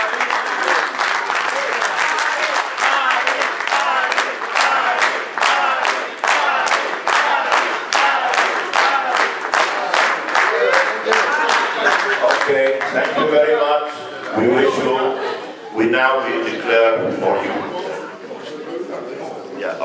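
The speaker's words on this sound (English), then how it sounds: "please stand up and give him the right applause he deserves from us" Audience at a volleyball congress closing session applauds steadily and loudly for about twelve seconds, dense clapping that then thins out into scattered claps and murmuring voices.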